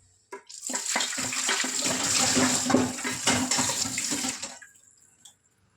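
Tap water runs steadily onto a clay pot being washed, a continuous splashing rush lasting about four seconds with small clinks at the start, close and fairly quiet.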